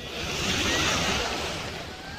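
Ocean waves rolling onto a Miami beach, a soft broad wash of surf that swells and eases, heard from nearby with some wind noise.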